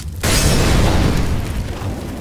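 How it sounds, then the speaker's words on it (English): In Counter-Strike, a Molotov bursts into fire with a sudden loud boom, then a roaring, crackling wall of flame that keeps burning heavily up close. "if I'm entry fragging, I'm probably gonna throw a Molotov in the corner anyway"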